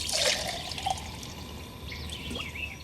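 Hot coffee is poured into a cup on a fishing boat out on a lake, a close liquid trickle and splash over steady outdoor background noise.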